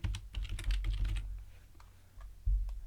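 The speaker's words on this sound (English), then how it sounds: "I'm just going to type in the word bright." Quick, light clicking keystrokes on a computer keyboard come in a short flurry, then pause and resume with a final tap, close and fairly quiet.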